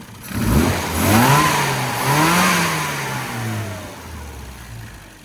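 Tuned Mini engine with a modified ABY carburettor needle on a road test drive, loud and close, revving up and shifting through gears with rising and falling pitch before easing off, no speech.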